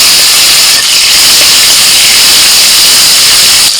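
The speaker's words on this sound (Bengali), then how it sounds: "এটা তুলে নিচ্ছি ফোড়নের মধ্যে দিচ্ছি তেজপাতা শুকনো লঙ্কা মেথি গোটা জিরে টমেটো কুঁচি" Bay leaf, dried red chili, fenugreek, whole cumin and chopped tomato hit hot oil in a pan, giving a loud, close, continuous sizzling hiss that holds steady without talk.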